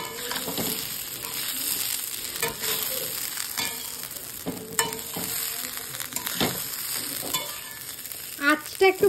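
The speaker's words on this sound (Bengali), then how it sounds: "আঁচটা বাড়িয়ে আমি ভালোভাবে ভেজে নেব চালটা" Rice being fried in a pan with ginger paste over raised heat, sizzling steadily while a spoon stirs and scrapes in irregular strokes, with sharper clinks toward the end.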